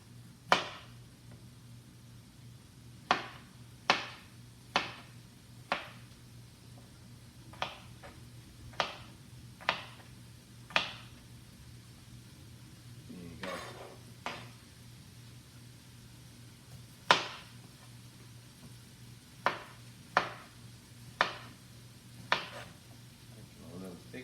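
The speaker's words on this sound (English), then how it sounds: "And these are going to go into the pot as soon as I've cut them." A knife chopping potatoes on a cutting board for a Zuppa Toscana soup, sharp isolated cuts coming in an uneven rhythm of roughly a dozen strikes, close up over a steady low hum.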